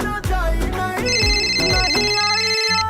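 A phone ringtone plays alone, loud and close: a bright electronic melody of rising and falling tones, then a steady high chiming pattern for nearly three seconds.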